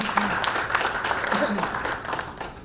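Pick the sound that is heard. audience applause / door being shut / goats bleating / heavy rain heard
audience applause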